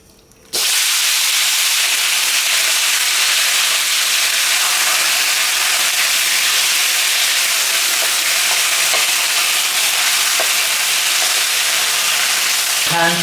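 Marinated steaks sizzle loudly in hot olive oil in a preheated wok, a steady broadband hiss that starts abruptly and holds unbroken for the whole stretch, with small pops and crackles and no talking.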